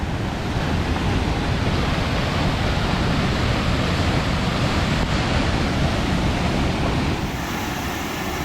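Roaring rush of Numa Falls on the Vermilion River near Banff, a loud, continuous broadband wash of falling water heard from close by a bridge over the canyon.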